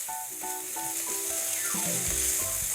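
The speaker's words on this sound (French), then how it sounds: "Et là, tu peux faire revenir 1 minute" Curry-seasoned chicken pieces sauté in a hot pan, giving a steady, close sizzle and frying hiss that runs throughout with no talking.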